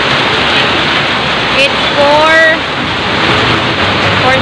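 Heavy rain pours down steadily as a broad, constant hiss during Typhoon Odette, with a person speaking briefly over the downpour.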